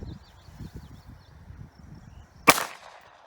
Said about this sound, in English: Now we're gonna shoot it with 9 Makarov.